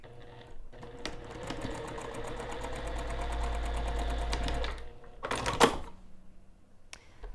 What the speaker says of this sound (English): we're going to sew the short ends using